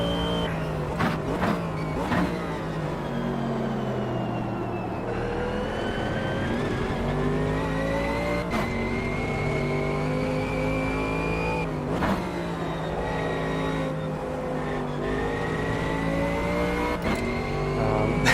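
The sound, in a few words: Camaro supercars racing at Kyalami, video game Automobilista 2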